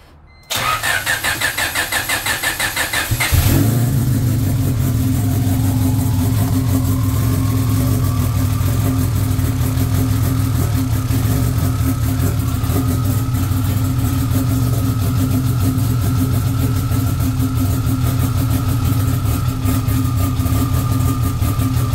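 A car engine cranks for about three seconds with a starter whine, catches loudly, then settles into a steady, close idle that holds for the rest of the stretch, just after its ECU has been reset.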